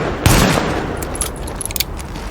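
A pistol firing in The Division video game, a loud opening shot followed by a few quicker, lighter reports and metallic clicks over a dense background.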